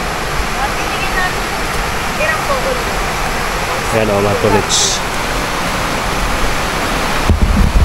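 A fast-flowing mountain river in Camarines Sur, Bicol, rushing as a loud, constant broadband roar close by, with a voice speaking briefly over it.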